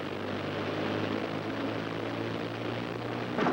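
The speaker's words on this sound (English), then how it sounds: "Running up to takeoff now." Aircraft engines run up before takeoff on a wartime Pathfinder bomber mission: a steady, loud propeller drone holds throughout with constant low harmonic tones, swelling slightly at the very end.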